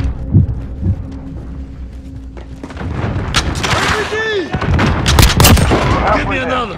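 Grenade blast and gunfire in the shooter game Call of Duty: Modern Warfare during a team deathmatch, with repeated loud sharp shots and booms building through the second half, layered over game voice callouts.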